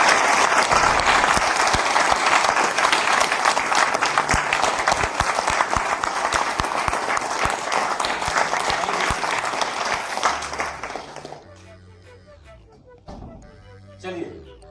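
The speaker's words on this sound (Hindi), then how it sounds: "तो एक बार आप सभी लोगों के लिए वापसी के लिए दोबारा तालियां बजाएं।" A training program audience gives sustained, dense applause that stays loud for about ten seconds, then tapers into scattered claps and quieter room sound as a voice begins.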